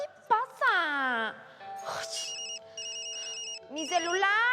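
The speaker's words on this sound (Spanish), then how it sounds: "mi celular está sonando" A mobile phone rings with a bright, repeating electronic tone pattern while voices exclaim and talk over it nearby.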